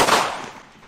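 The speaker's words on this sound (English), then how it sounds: "that sounds like a gunshot to me" A single loud gunshot from a firearm firing blanks, a sharp bang that decays quickly into a fading echo.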